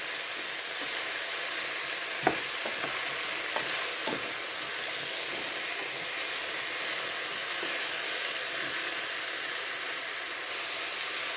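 Squash and shrimp sauté in a pan over medium-low heat, giving a steady, moderate sizzle and hiss with a few soft utensil taps and stirring clicks early on.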